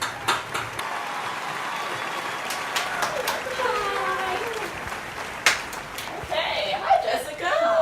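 Studio audience applause welcoming a guest onto a talk show, a steady clatter of many hands with cheers and whoops mixed in, moderately loud and continuous throughout.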